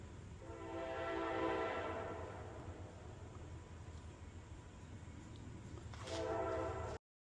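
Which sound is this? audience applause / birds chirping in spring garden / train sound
train sound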